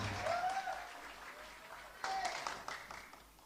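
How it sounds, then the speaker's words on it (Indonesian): Audience applause at the Anugrah Award 212 evening on 4 January 2019, honouring Rocky Gerung; moderate clapping rises near the start and again midway, with a voice speaking over it. "Tepuk tangan untuk Rocky Gerung."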